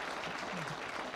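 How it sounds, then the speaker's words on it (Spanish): Audience applause for a speaker at an international hand-hygiene forum, a brief, faint, continuous patter of many hands clapping. "fuerte, fuerte el aplauso para nuestro conferencista"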